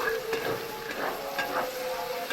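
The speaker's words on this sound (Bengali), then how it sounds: "পেঁয়াজটা আমি হালকা লাল করে ভেজে নেব।" Onions frying until lightly reddened in a pan of oil for a Malabar spinach and prawn charchori, a steady close sizzle with a few soft stirring scrapes, no voices.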